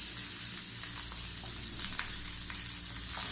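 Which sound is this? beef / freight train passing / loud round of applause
beef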